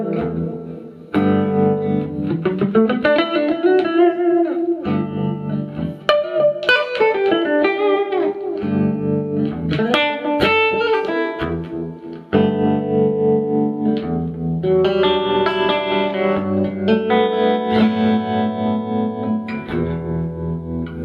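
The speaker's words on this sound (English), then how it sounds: "if I put a reverb on as well, from the Quicksilver, I'll just bend that" Slide guitar played through a Carl Martin Quicksilver reverb and tremolo, with gliding, bending sustained notes and chords that ring out loud and spacious with wide reverb tails across several phrases, with brief pauses between them.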